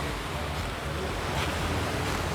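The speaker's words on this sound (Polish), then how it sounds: "Tutaj woda płynie." Steady rushing water inside Postojna Cave in Slovenia fills the space with a broad, continuous hiss and low rumble, close and fairly loud, with no speech.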